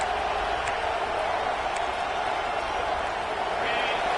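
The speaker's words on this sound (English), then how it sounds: "This crowd, full throat, splitting the eardrums" A football stadium crowd at a JMU versus Oregon game roars in a dense, sustained wall of cheering, with a commentator's voice faintly present beneath the noise.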